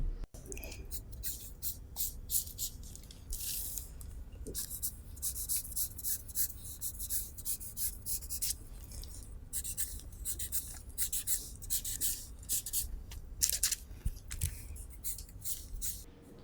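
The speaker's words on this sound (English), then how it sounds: "I've decided to outline the pattern and cut a new one." Pencil or marker scratching steadily across paper while a sewing pattern is outlined, a close, dense run of short strokes with light rubbing and rustling throughout.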